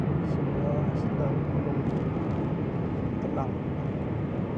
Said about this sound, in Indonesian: Suasana dalam kabin pesawat